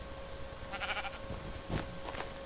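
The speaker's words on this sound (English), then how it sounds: "Ooh, sheep." Sheep in the Minecraft video game bleat in short, faint nasal calls, two or three brief bursts over low background hum.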